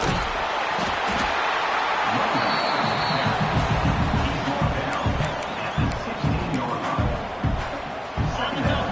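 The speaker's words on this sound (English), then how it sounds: "the crowd coming to life here, trying to help this defense down in the red zone" A college football stadium crowd at an Arizona State versus ISU game roars and cheers steadily as the defense plays in the red zone, with a commentator talking over the din.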